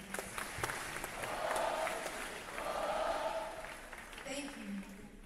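Audience members at a school Veterans Day assembly give sustained applause for veterans' family members, with steady clapping that swells and fades in waves and a brief voice near the end.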